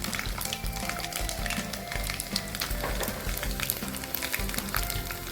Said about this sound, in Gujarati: ત્યાર પછી આપણે આખું જીરું એડ કરવાનું છે. ત્યાર પછી આપણે લસણની કટકી જે કરી છે ને તેને એડ કરવાની છે.